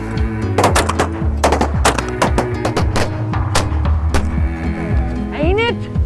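Gunfire during a hunt, with a rapid series of sharp close shots in irregular bursts and an animal-like call near the end.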